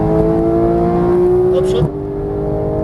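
A Porsche GT3 accelerates hard out of a corner. The engine drones loud and close with a steady rising tone, then drops off abruptly as the throttle lifts.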